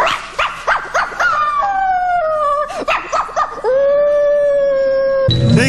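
Several dogs yip, bark and howl in quick succession, their high wavering calls stretching into long drawn-out howls, loud and close, ending in a burst of noisy barking.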